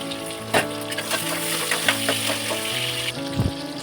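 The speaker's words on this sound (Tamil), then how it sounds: "அதையும் போட்டு நல்லா வதக்கிக்கலாம்." Two large sliced onions with whole spices are sautéed in a pan for chicken biryani. The oil gives a steady close sizzle with soft stirring scrapes and clinks and a louder knock near the end, with no talking.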